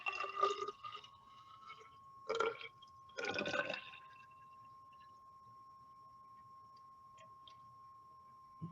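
Tap water poured into a lab flask up to roughly the 70 mL mark for a gravimetric precipitation experiment, heard as three short splashing bursts over a steady faint hum, then quiet.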